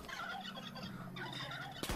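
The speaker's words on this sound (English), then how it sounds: "Oh, it's a oodle of turkeys." Wild turkeys in the video game Far Cry 5 gobble in a group, rapid warbling calls overlapping at moderate distance against game ambience, ending with a sharp burst.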